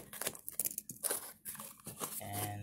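Plastic electronics packaging holding a 4370kv motor and 60 amp ESC is ripped open by hand, a close run of sharp crinkling tears and crackles in quick bursts, with no talking.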